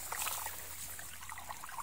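Water trickling and dribbling steadily as a flooded rice paddy is drained outdoors, a faint continuous flow with scattered small splashes and a low hum beneath.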